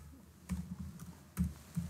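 Short bursts of typing on a computer keyboard, a few quick keystrokes landing in small clusters, close and fairly soft with quiet gaps between them.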